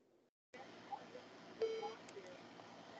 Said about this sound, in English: That's the only beep you're supposed to hear.